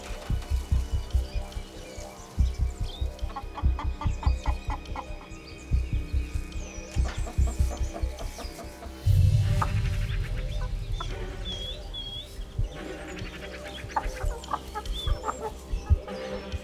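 Chickens cluck in a coop in Australian daylight. Repeated, rhythmic clucking calls come at close range, with a louder burst of fowl noise partway through and overlapping squawks and chirps, and no speech.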